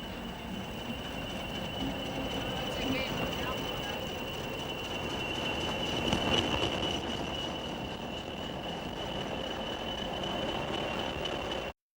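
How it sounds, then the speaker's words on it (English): A British Rail Class 40 diesel locomotive hauls a freight train round the back of Newcastle Station, a steady, loud rumble of engine and rolling wagons with a persistent high wheel squeal throughout, no voices. "One of the Gateshead Class 40s passes round the back of Newcastle Station with a freight for Tyne Yard."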